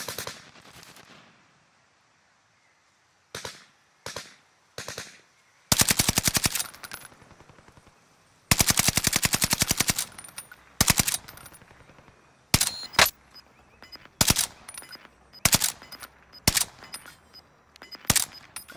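Bursts of automatic weapon fire from a first-person shooter game, loud and close, alternating long sustained volleys with short rapid rattles separated by brief pauses.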